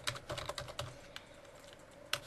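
Fingers typing on a computer keyboard while entering router connection commands, a quick irregular run of close, crisp keystrokes with a few short pauses and no talking.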